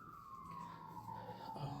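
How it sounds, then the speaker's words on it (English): Emergency vehicle siren wailing from a distance near the I-70 highway, a steady descending tone held throughout against faint background hum. "You can hear the sirens"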